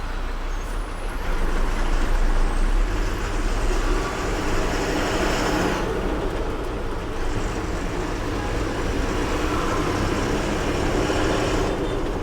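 Heavy traffic on the Mumbai to Ahmedabad main road in Gujarat, heard from a truck, makes a loud, constant rumble of engines and road noise with a brief dip partway through.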